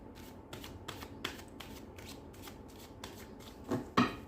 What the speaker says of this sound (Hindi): अब मैं एक कार्ड निकाल देती हूँ कि इस रिश्ते का फ्यूचर क्या है